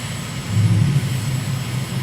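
Simulated aircraft engine in Microsoft Flight Simulator during a recon flight over Eswatini, a steady low drone that swells in power midway and holds at a constant loud level with no voices.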